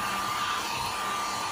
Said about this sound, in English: It's basically like a little mini vacuum.